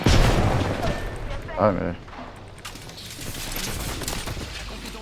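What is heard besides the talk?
gunfire in a video game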